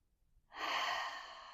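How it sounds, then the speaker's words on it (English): A single slow, easy breath drawn in during seated airplane-seat yoga, soft and close, rising after a short silence and sustained to the end. "Take another easy breath in"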